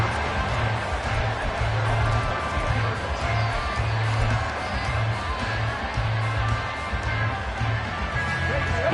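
Steady stadium crowd roar and cheering in a Madden NFL football game between the Lions and Bears, a broad continuous wash of noise with low hum throughout and no clear peaks.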